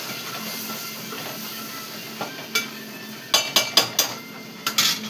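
Cooked curry is moved into a vessel in a home kitchen, giving a quiet background hum broken by a few light taps and then a quick run of sharp metallic clinks and clatters of dishes.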